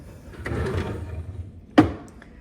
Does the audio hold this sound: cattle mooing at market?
no